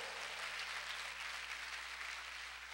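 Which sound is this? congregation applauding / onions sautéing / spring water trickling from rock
congregation applauding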